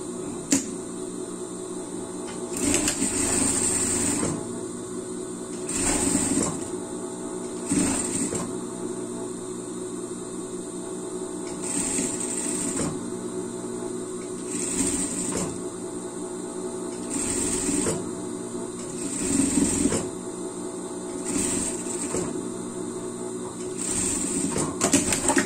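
A sewing machine topstitches a seam, running in repeated bursts of rapid mechanical stitching a few seconds long. Short pauses separate the runs, and a steady motor hum continues underneath throughout.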